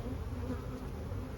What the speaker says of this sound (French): voilà les petites abeilles parisiennes.